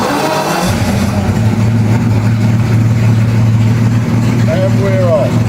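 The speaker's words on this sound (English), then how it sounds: "So let's hit the starter motor." Jaguar XJS engine cranked by the starter motor, catching at once and settling into a steady, loud, close idle with a deep continuous rumble throughout.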